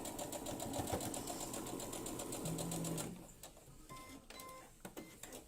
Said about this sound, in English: So I'm going to sew those ones like that